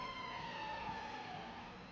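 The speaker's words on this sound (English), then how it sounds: "That ambulance is being a bit over dramatic," An ambulance siren wails steadily through the whole stretch, a sustained tonal whine over street noise, heard from a moderate distance with no talking.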